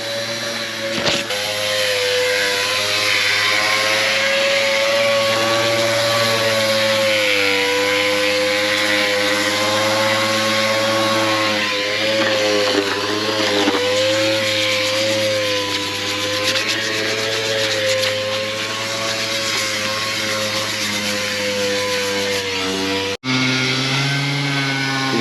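An orbital sander works over a metal farm restoration piece, giving a continuous close electric whine and buzzing hum with wavering tones as the pressure changes; it runs for over twenty seconds, then cuts off abruptly near the end.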